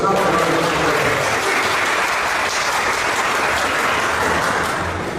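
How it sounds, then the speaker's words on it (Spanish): Sustained audience applause welcoming a speaker to the stage at a theological debate event, a dense, steady wash of many hands clapping at full volume that barely tapers across the whole stretch. "Un fuerte aplauso"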